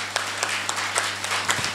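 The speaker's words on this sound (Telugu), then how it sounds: "వాళ్ళందరికీ చప్పట్లు కొడదాం." Seated audience at a meditation festival gathering clapping together, a steady continuous patter of applause with faint regular beats, moderately distant in a large hall.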